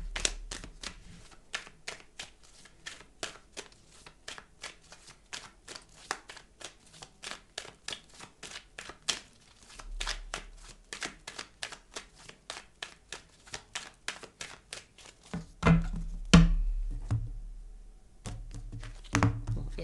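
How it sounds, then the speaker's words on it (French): Oracle cards gathered and shuffled by hand, a long run of crisp rapid riffling snaps and slaps close up, pausing briefly before a few heavier thumps of the deck near the end. "Je récupère les cartes et je vais réutiliser le même oracle"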